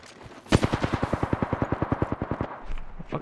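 A loud burst of automatic gunfire in Apex Legends, around twenty evenly spaced shots in quick rhythm over about two seconds, then fading into quieter background noise.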